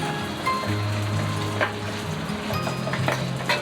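Dried scallops deep-fry in hot oil in a wok, a steady dense sizzle and crackle with a few sharper pops and stirring clinks, close and continuous with no voices.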